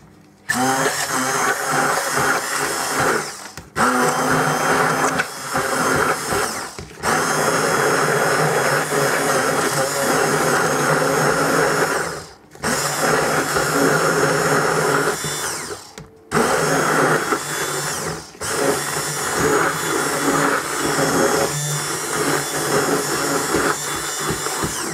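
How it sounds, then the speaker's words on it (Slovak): An immersion blender whirs loudly in a bowl, blending broccoli and eggs into a smooth dough. It runs in long bursts separated by short pauses, and no one speaks. "a vymixujem to ponorným mixérom na jemné testo."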